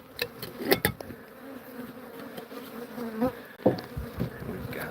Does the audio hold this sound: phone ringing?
no